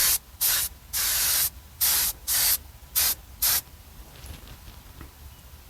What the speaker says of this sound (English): Let's spray a spray right there,